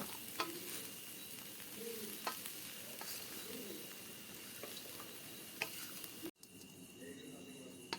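Crackling sizzle of a crisp millet (bajra) flatbread frying in a pan, with scattered ticks and light scraping, close and fairly quiet, ending with a brief clatter.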